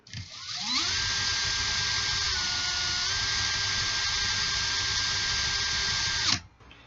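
A small drill spins in reverse for about six seconds, a steady high whirring that winds up quickly and cuts off abruptly, loosening Clapton vape coil wire from its core.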